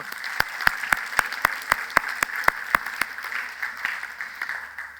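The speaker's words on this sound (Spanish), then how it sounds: "También le damos un aplauso a Jesucristo por el equipo que Él está poniendo." A church congregation applauds during a Sunday morning service in a steady, rhythmic burst. The evenly spaced claps sound like a few people clapping close by, and they fade slightly near the end.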